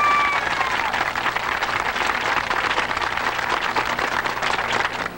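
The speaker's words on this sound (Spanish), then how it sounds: "Un aplauso." Applause from a gathered crowd at a Cuban cooperative housing ceremony handing over the first house key, a dense, steady clapping that fills the whole stretch, loud and even, with no speech over it.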